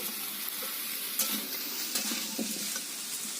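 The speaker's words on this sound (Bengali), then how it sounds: "কুমড়োগুলো আমার ভাজা ভাজা হয়ে গেছে এর মধ্যে দিয়ে দেবো ক্যাপসিকাম কুচি" Pumpkin pieces fried until browned, then stirred together with chopped capsicum in a pan, giving a steady close sizzle with a few soft scraping stirs and light clinks.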